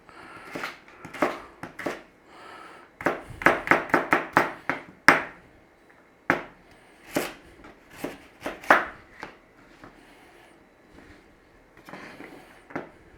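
A knife cubes a firm carrot on a chopping board, giving bursts of sharp, close chops in quick clusters separated by short pauses, with no talking.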